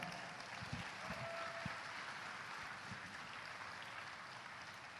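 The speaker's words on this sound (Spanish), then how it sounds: "Vamos, aplauda su nombre." A church congregation applauding during a sermon, a faint, distant wash of steady clapping with a few louder low thumps near the start.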